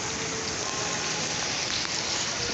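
Steady rain falls in Faisalabad, a dense, continuous hiss of drops striking surfaces close by, unchanging in loudness and heard on its own.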